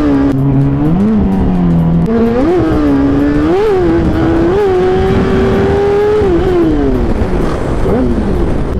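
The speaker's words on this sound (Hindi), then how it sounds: "फर्स्ट तो बर्नआउट ओके हो गया था, खाली चला गया था क्योंकि टायर पे शायद थोड़ी मिट्टी थी, और सेकंड व्हीली अच्छी गई थी भाई" A Kawasaki ZX-10R sport bike roars through a burnout and wheelie, its loud engine climbing and dropping in repeated revving surges with tire noise, close and continuous for several seconds.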